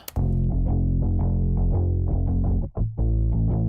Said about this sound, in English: a very specific sort of sounding distortion, which I did for, you know, the bass here.